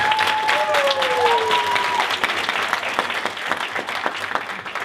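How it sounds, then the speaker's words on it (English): An audience at a training session applauds, loud continuous clapping that fills the room while a whistle-like tone slides briefly near the start and voices mix in underneath. "Let's give Legacy Direct a big round of applause."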